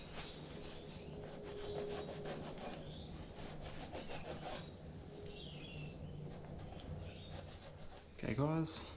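A microfiber cloth rubs steadily over exterior car plastic, wiping off excess Carpro DLUX coating with a soft, continuous close swishing, then a short sharper squeak at the end.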